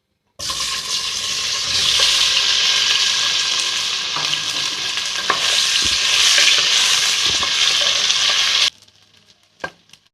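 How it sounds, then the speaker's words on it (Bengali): Potatoes fry in hot mustard oil for aloo dum, giving a loud, dense, continuous sizzle with occasional stirring knocks up close. The sizzle cuts off abruptly near the end, leaving near silence and a single faint clatter. "এখন আমরা এতে আলুগুলো দিয়ে হালকা বাদামি রং করে ভেজে নেব।"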